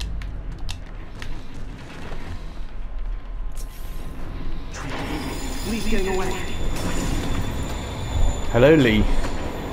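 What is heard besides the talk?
train in Marvel's Spider-Man video game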